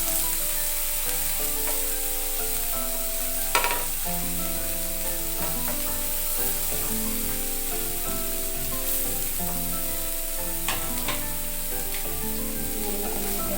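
Onion, tomato and cucumber sauté in a pan with a constant close sizzle, brief sharp clicks of a spatula now and then, and a melodic tone running underneath, with no talking.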